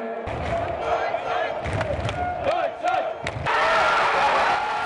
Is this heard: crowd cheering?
yes